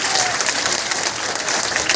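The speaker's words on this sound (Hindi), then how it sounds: "मंजूर है तो जोर से ताली बजाइए।" Dense, continuous clapping from a large crowd at an outdoor World Tribal Day rally, loud and sustained throughout with faint crowd murmur mixed in.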